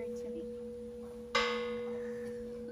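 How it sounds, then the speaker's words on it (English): A large church bell is struck once on Good Friday, a single sharp clang midway that rings out with a long shimmering decay over a steady low hum. "This is a bell, yeah? Okay, go. Do I hit it or no?"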